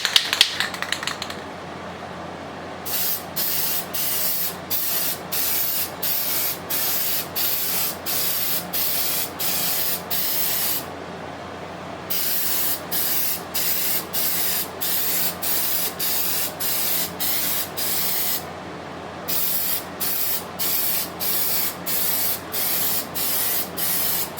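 Spray paint hisses onto glass to build a frosted coating, in rapid rhythmic bursts of short sprays separated by two brief pauses, close and fairly loud, with no speech.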